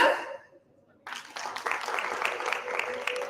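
Conference audience at a tech summit breaking into clapping after a brief lull, sustained dense applause from a crowded hall for a few seconds, with a voice briefly audible at the start.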